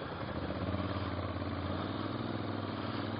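A 2016 Moto Guzzi V7 Stornello scrambler motorcycle engine runs at a steady low pulsing drone, close and continuous, with a dense even rumble and no talking.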